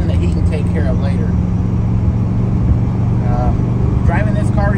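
A 1970 VW Beetle engine drones steadily from inside the cabin, low and rumbling throughout, with a voice speaking briefly over it.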